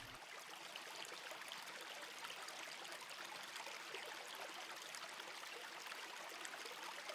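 Potash Brook flows in a steady, soft rush of water with a faint trickle, unbroken and fairly quiet, with no voices.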